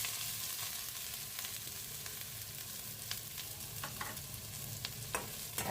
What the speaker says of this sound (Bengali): এখন আমি আপুরা পেঁয়াজ আর রসুন কুচিটা ব্রাউন কালার করে নিব।